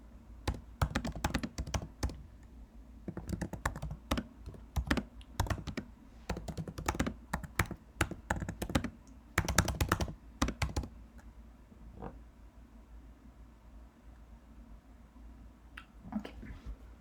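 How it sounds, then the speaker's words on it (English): Computer keyboard typing in capital letters, bursts of close, crisp key clicks in irregular runs separated by brief pauses, thinning out toward the end. "over here now I need to type it in capital"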